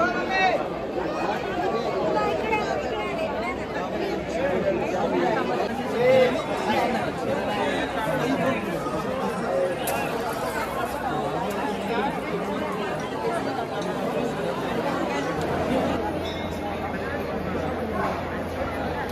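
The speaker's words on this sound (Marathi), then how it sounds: "आता आपण आलेला महालक्ष्मीला किती गर्दी पहा" Dense crowd chatter fills the Mahalaxmi temple in Kolhapur during the palkhi procession, a steady, loud babble of many voices close around throughout.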